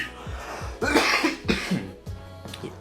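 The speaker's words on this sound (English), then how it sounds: "See, I feel like that's an old cough." A person coughs after smoking THC-O from a cone, giving several harsh, rough coughs and throat clears in a close burst, loud and alone with no talk.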